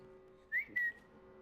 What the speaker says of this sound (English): Are you trying to whistle to my bat?